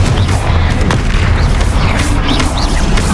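Confringo fire spell explosions in the Hogwarts Legacy video game: a dense, continuous barrage of booming bursts and crackling blasts with heavy low rumble, loud and close throughout.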